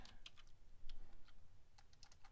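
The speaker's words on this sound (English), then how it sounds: "Let's show you guys if my keyboard would work." Rapid, quiet clicking of a computer keyboard being typed on, a steady run of close keystrokes with no talk.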